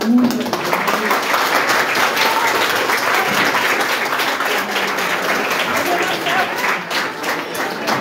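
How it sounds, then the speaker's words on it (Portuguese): A standing audience at an art and behavior lecture breaks into loud, sustained applause, a thick wash of clapping that carries on steadily for the whole stretch, with a few voices faintly mixed in. "vamos ficar de pé, uma salva de palmas"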